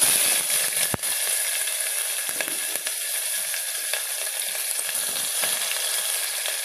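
Chopped onions sizzle steadily in hot oil with mustard and fenugreek seeds for a drumstick tamarind stew, a constant close, bright frying hiss with a few faint clicks and no voices.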